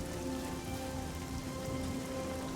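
Rain falling in the video game The Elder Scrolls IV: Oblivion, a soft continuous patter with a faint steady background tone, quiet and even throughout, with no talking.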